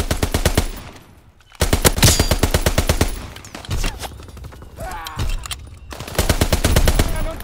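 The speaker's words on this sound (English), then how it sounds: "Black guns firing, clearing the skies." Sustained automatic gunfire from a Call of Duty: WWII match, loud rapid bursts of machine-gun fire with brief pauses and a quieter lull near the start, alongside scattered mechanical clatter and distant shots.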